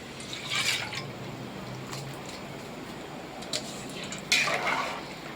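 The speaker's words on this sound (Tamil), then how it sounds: "நல்லா கிளறி விட்டுக்கலாம். அரிசியெல்லாம் போட்டாச்சு." Mushroom biryani with rice is stirred in a pot, giving soft, intermittent scraping and wet shuffling of a spoon against the pot, with a few louder scrapes near the end and no talking.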